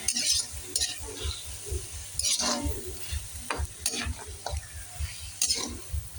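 Chicken sautéing in a pan, stirred with a metal utensil in repeated scraping strokes over a steady sizzle, with occasional clinks against the pan.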